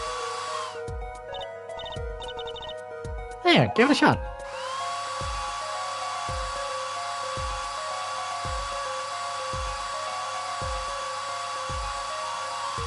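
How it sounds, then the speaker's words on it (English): A dryer in Apollo Justice blows a steady, bright hiss over plaster, heard under a looping game music track with regular soft beats. A voice speaks briefly partway through. "Press X to blast it with that dryer."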